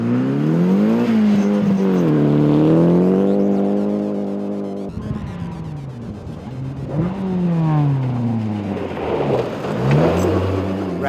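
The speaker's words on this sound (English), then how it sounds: "Vlad would fire up the potent Fiesta, putting in a good time on the first gravel test to signal his intentions." A Ford Fiesta rally car charges along a gravel forest stage, its engine revving hard and falling through gear changes, with loud rising and dropping pitch sweeps, a brief lift-off, then renewed acceleration and gravel spray.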